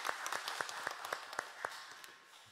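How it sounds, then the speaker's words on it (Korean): A church congregation at a Korean Sunday service claps, distinct individual hand claps ringing out in a loose rhythm against a quieter hall, thinning toward the end. "우리 하나님께 영광의 박수 올려드리겠습니다."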